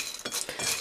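Sunflower seeds being turned over on a hot plate during microwave roasting, a few quick dry scraping and clinking rustles close by.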